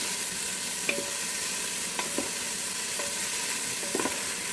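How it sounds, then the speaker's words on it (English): Zoodles and shrimp stir-fry in a Ninja Foodi, a constant close sizzle broken by several light scraping stirs of a utensil roughly once a second, with no voices. "Now you just want to stir fry this in."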